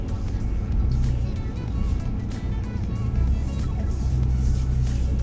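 A 2020 Nissan Frontier Pro 4X truck driving on a trail, a steady low engine rumble with rustling and bumps from the terrain, loud and close throughout.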